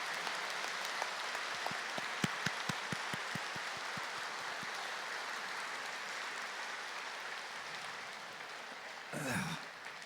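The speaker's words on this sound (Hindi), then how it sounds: "तो सभी जोरदार तालियां बजाएंगे, एक बार अच्छी तरह से बजाएंगे तालियां" An audience at a spiritual gathering gives a brief burst of scattered claps that quickly thins into a soft, distant patter before fading out.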